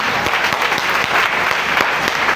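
A church congregation bursts into steady, loud applause, dense continuous clapping that fills the space from start to finish with no voices standing out.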